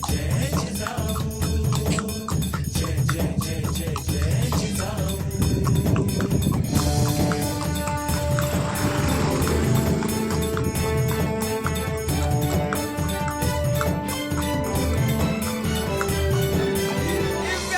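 Horse hooves clip-clop steadily during a horse ride at Panhala fort, the rhythmic beats partly masked by loud, continuous music throughout.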